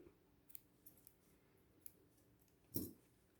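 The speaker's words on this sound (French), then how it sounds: "Ce petit fil, je peux le couper." A few faint snips of scissors trimming a small thread while sewing, one crisper cut standing out near the end, all in a quiet room.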